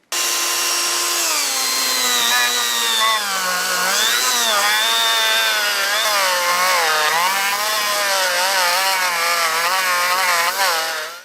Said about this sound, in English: I'm going to polish that up with a Dremel tool